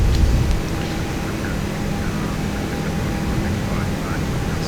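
An Airbus A330-900 jet climbs out after takeoff in the X-Plane 12 flight simulator, its engines giving a steady broadband roar with rumbling lows throughout.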